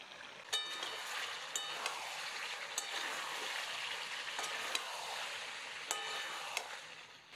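Chicken sautés in a pan over high heat for Mughlai chicken maharani, a soft, even frying hiss with occasional light clicks of a spoon stirring, fairly quiet and without talk.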